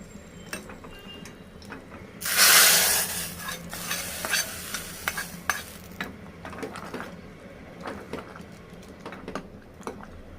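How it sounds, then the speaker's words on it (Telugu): Hot tempering is stirred into a cabbage and chana dal masala curry in a pan. A loud burst of sizzle comes early, followed by repeated close scraping and clinking stirs over a quieter fry. "ఇప్పుడు ఈ పోపు అందులో వేసాము మంచిగా కలబెట్టాను"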